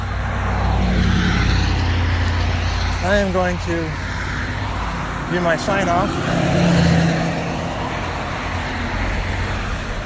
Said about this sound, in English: with the noise of traffic